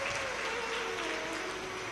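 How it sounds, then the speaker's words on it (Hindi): Loud, steady clapping from a large crowd at a Shiv Mahapuran katha gathering, honoring the chief hosts, sustained and dense without pause. "एक बार उनके लिए भी जोरदार ताली बजाकर साधुवाद"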